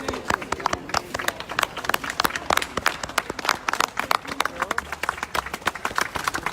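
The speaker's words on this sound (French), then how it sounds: "Voilà, on applaudit la police italienne" A crowd claps and cheers for the Italian police at a gathering, with dense, lively applause running throughout alongside scattered shouts and voices.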